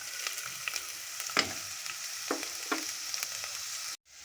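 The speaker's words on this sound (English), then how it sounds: "I'm going to be adding my chopped onions and sauteing it for about 2 to 3 minutes" Chopped onions sauté in hot oil, giving a steady close sizzle with a few brief clicks of a spatula or spoon against the pan and a sudden cutoff near the end.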